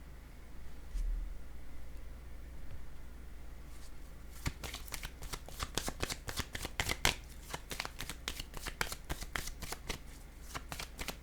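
Playing cards are shuffled and handled on a table during a card reading, with a rapid run of crisp riffling clicks close by after a quiet start.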